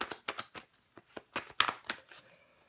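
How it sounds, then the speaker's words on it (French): Tarot cards are handled and turned over close by, a quiet series of soft papery flicks and slaps in an irregular rhythm. "Je vais recouvrir des cartes."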